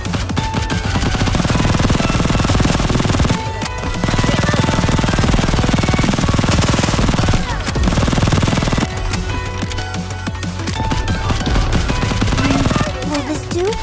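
Rapid machine gun fire from the video game Goddess of Victory: Nikke comes in long, loud sustained bursts separated by brief pauses.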